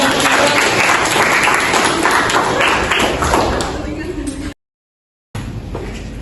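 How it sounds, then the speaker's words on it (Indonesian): A class of students in an Indonesian Islamic secondary school lesson bursts into loud, dense applause that fades toward the end before a brief silent gap and a short return of room noise. "tepuk tangan."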